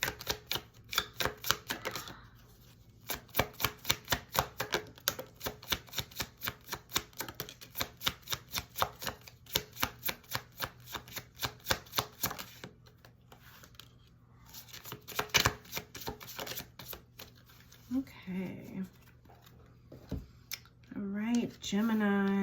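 Tarot cards being shuffled in quick, rhythmic bursts of crisp riffling and slapping, close and fairly quiet, with brief pauses between runs and a voice speaking near the end.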